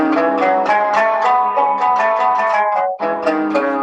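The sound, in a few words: voice singing up and down a makam scale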